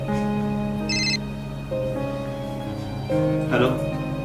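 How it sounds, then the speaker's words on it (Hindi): A phone rings with a repeating electronic melodic tone, moderately loud and close, while a voice speaks over it. "अरे फोन बज रहा है, फोन क्यों नहीं उठा रहे?"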